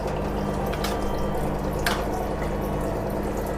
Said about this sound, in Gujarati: ડાયરેક્ટ આપણે બટાકું ડૂબે ત્યાં સુધી પાણી એડ કરવાનું